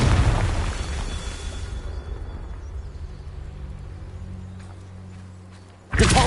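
A Confringo spell blast from Hogwarts Legacy: a loud, broad explosive burst that opens the moment, rumbles and fades over several seconds, then a second sharp impact hits near the end.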